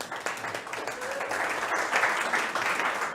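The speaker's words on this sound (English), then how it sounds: "Give a round of applause to the Springboks." Audience applause for the Springboks during a social guest speaker event, a steady, moderately distant wash of clapping lasting a few seconds with faint voices underneath.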